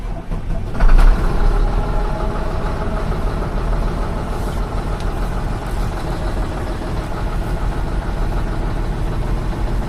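A 2007 Mitsubishi Fuso Fighter FM260 diesel truck with knocking fuel injectors idles steadily up close while it warms up, giving a loud, continuous low rumble with a brief swell near the start.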